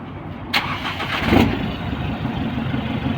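An Isuzu D-Max 1.9 pickup fitted with new exhaust pipes cranks and catches with a short starter whir. It then settles into a close, steady idle.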